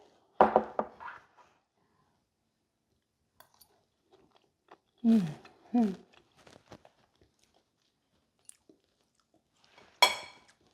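Bites of taco pasta topped with diced tomatoes and avocado are chewed close up in a few short bursts of soft, moist crunching separated by quiet pauses.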